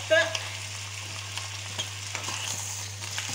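Duck legs and carrots sizzle in a pan while being stirred, a steady close frying hiss with soft scraping touches of the utensil and a small clink at the start, no voices.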